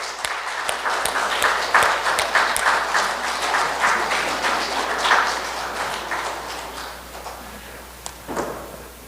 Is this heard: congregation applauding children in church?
yes